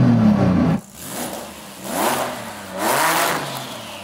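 A 3,000hp SUV engine revving hard, rising in two or three long surging roars after a brief cut, loud and close, with no talking.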